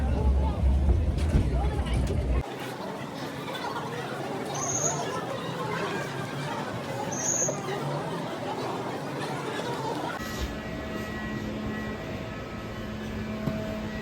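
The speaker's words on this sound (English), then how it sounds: "Finally, we are in Imphal Airport." Inside Imphal Airport, a steady hum of terminal ambience and distant machinery with a couple of brief high electronic tones, while voices talk nearby.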